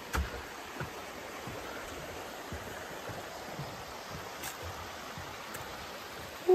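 Steady broadband rush of a creek and the Laurel Fork Falls waterfall from a suspension bridge on a hiking trail, continuous and moderately loud, with a brief exhale near the start.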